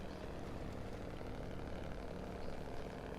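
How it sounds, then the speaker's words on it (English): A Kenworth 963 truck idles in the video game SnowRunner, giving a steady, loud, low diesel rumble with an even pulsing throb that holds unchanged throughout. "it definitely is a bloody nice engine noise"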